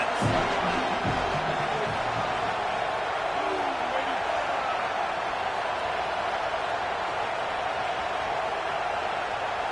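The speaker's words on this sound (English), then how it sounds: "This crowd trying to make life miserable for this offense." Stadium crowd roaring throughout a college football video game, Clemson at Georgia, a constant dense wall of crowd noise with a few brief voice fragments near the start.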